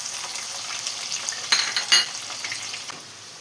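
Sliced garlic, ginger and slit green chillies fry in hot oil, giving a steady close sizzle with a couple of louder crackling bursts and a faint utensil clink before the sound eases off.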